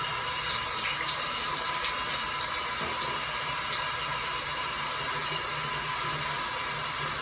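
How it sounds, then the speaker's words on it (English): A steady, fairly loud stream of water pours over hair as conditioner is rinsed out, an unbroken rushing spray with no voices. "Just getting that conditioner out."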